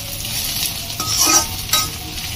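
Sliced bitter gourd and potato frying on high heat in a pan, giving a steady loud sizzle with a couple of stirring scrapes and light clinks of a utensil, with no talking.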